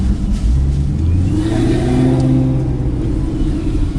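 A three-valve Mustang engine rumbles close by with a low throaty tone, swelling as it passes, steady and loud with no voices.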